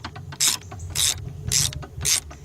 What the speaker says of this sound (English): what I got is a 2-foot 3/8 drive extension. Got my 3/8 drive ratchet.